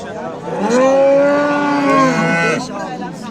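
A single long, loud moo from a nearby cow, rising and holding for a couple of seconds before fading.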